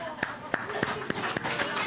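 Rhythmic clapping from a church congregation during a Sunday worship service, steady sharp claps repeating about every third of a second over singing and music.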